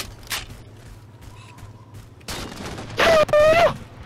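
Gunfire in Halo 4 multiplayer, Team Snipers on the Ragnarok map: a couple of sharp shot bursts and a dense loud volley near the end, with a brief voice overlapping.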